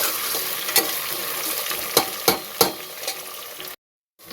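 Turnip (gogji) frying in a pan, a continuous crackling sizzle broken by several sharp scraping stirs of a spoon, then a sudden brief silence near the end.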